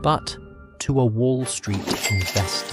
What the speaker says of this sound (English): that is the sound of a cash register opening.